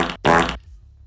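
Two short, loud flatulent bursts of a fart sound effect in an Italian live-coding session for a VIP-guessing game, the second longer and stronger, followed by a faint low tail.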